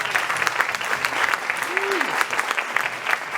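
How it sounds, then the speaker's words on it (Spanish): Steady, dense audience applause closes a talk on coping with Christmas after losing a loved one, filling the room with continuous clapping while a voice briefly rises over it. "Un aplauso para el doctor Montoya."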